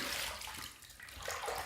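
A Merkur HD 34C safety razor rinsed under running water, a steady close splashing rush from a tap that dips briefly and then surges again, with no talking.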